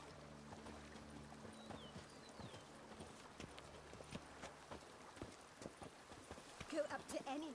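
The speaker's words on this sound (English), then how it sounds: "you ride it at a constant gallop" Horse hooves clip-clop at a steady gallop rhythm in a Witcher-style fantasy video game, moderately quiet beneath a narrator's voice and background music.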